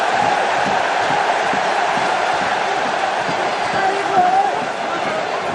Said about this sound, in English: The crowd have got right behind the Parisians.